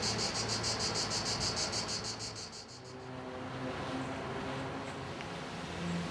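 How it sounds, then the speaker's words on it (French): Cicadas singing in the countryside at Salon de Provence, a loud pulsing buzz at first that fades after a few seconds, then a softer continuous insect drone. "nous étions à Salon de Provence, à la campagne, voilà, avec les cigales"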